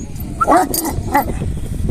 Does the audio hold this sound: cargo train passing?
no